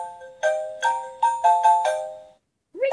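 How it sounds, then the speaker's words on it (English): A Disney Frozen toy cell phone plays a bright, loud electronic ringtone melody of five or six distinct chime notes in an even rhythm, followed by a short pause and the start of another tone. "Ringtones."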